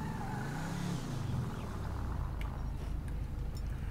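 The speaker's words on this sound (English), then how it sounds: "Engine audio." A car engine in GTA V drones steadily, a low rumbling hum that shifts pitch slightly as it runs.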